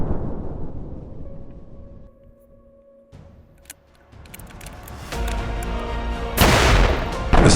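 A loud burst at the end as a hydrogen-filled bottle explodes, following a quieter stretch of hiss and low rumble, the blast sharp and broadband, close by and outdoors.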